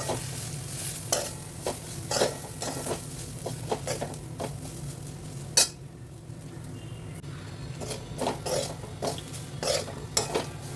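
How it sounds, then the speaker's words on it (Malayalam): Ivy gourd fry with ground masala is stirred steadily in a pan, with a quiet sizzle beneath repeated scraping strokes and light clicks of a spoon against the metal, then a short lull before the stirring resumes. "ഇതിലേക്ക് നമ്മൾ നേരത്തെ പൊടിച്ചെടുത്തിരിക്കുന്ന മസാല ചേർത്ത് കൊടുക്കാം വീണ്ടും ഇതേപോലെ തുടരെ ഇളക്കി കൊടുക്കാം"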